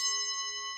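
Small bell-shaped percussion cymbals struck once, giving a bright, sustained metallic ring with steady overtones that hangs clearly and decays slowly, close and alone.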